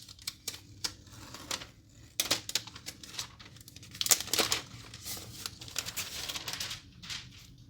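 Packaging for a 2022 iPad Pro M2 in space grey is opened by hand, with crisp crinkling, tearing and tapping close up, in irregular bursts over several seconds and no talking.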